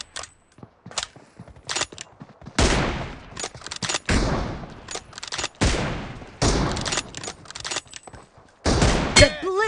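Gunfire in BGMI (PUBG) team deathmatch with an M24: sharp single shots and short bursts come in separate, irregular volleys, loud and close, with quiet gaps between them.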